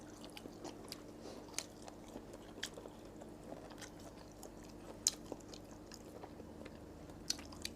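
Someone chews Japanese-style mixed sausage from 7-Eleven, producing soft, faint, close-up bites and wet squishy mastication with occasional small crunchy clicks at an irregular pace.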